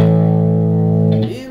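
Electric guitar played through a Marshall Code 50 amp on a Plexi-style setting with a touch of reverb, a sustained chord ringing loud and steady, then cut off with a short reverb tail.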